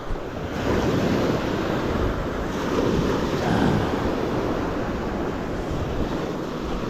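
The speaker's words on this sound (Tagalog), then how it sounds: "Medyo katamtaman yung alon niya yan." Ocean surf rolls in steadily while fishing from a boat at sea, a continuous broad wash of moderate waves with wind buffeting the microphone throughout, no voices.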